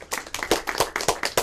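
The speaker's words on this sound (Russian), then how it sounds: "Аплодисменты." Small lecture audience clapping, about a dozen crisp, fairly close hand claps in a loose, quick rhythm over just over a second.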